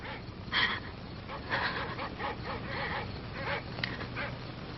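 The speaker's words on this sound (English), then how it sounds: "Those dreadful dogs. They sound so terribly ominous." Dogs bark and yelp in the dark at a distance, scattered repeated barks and whimpering yips, faint and echoing, with a voice talking over part of it in an old 1963 film.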